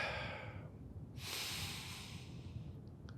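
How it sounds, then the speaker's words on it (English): A deep breath drawn in through the nose, a short pause, then a long airy exhale, close to the microphone over a low background hum. "So just take a deep breath."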